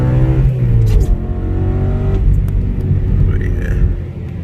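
A BMW F80 M3 engine rumbles low and steady close by, with a droning tone sliding down early on and a few faint higher sounds drifting over the deep throb.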